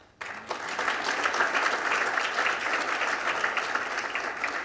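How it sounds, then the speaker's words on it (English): Steady applause from a large audience at a Smart 21 community announcement ceremony, starting abruptly and holding a dense, even wash of clapping with no voices on top. "So you can applaud them."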